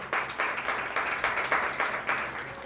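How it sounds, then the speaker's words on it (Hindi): A church audience claps in rhythmic unison for a pastor during a question-and-answer session, a steady run of about ten evenly spaced bursts of clapping heard close with no talk. "मैं चाहूँगा पास्टर पालूस साहब के लिए ज़ोरदार तालियां बजाएं जाए"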